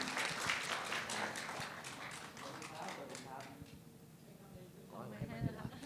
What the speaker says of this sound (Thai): ขอเสียงปรบมือค่ะ